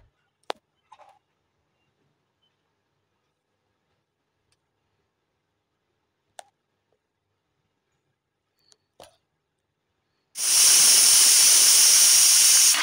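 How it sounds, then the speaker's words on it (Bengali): Pieces of katla fish drop into hot oil in a frying pan and sizzle loudly in a sudden, sustained hiss, after quiet clinks and taps of utensils. "গরম তেলে মাছগুলোকে আমি এপিট ওপিট করে সুন্দর করে ভেজে নেব।"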